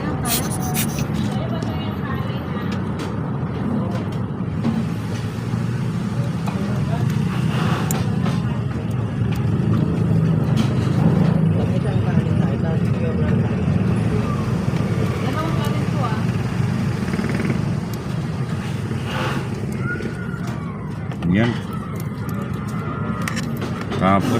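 A vehicle engine idles steadily just after being started, a continuous low rumble running throughout, with voices murmuring in the background.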